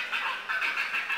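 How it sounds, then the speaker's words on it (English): A short, harsh grey heron call repeated in quick rasping bursts, fairly close and alone, lasting about a second. "Sound of a grey heron."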